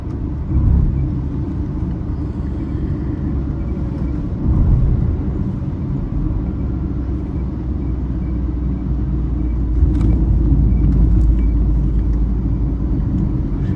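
A 2025 Tata Nexon CNG driving hard through corners on an open road, with a steady low engine and road rumble and small swells as it takes the bends.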